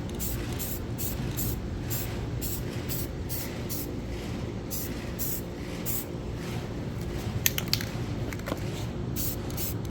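Short bursts of spray hiss repeat in a steady rhythm as a coat of gloss black paint goes onto a car part, each pass a close, bright whoosh with brief gaps between, over a low background rumble.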